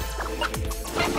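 A chicken clucks in the video game Wand Wars, a short close burst of several clucks over a constant game background.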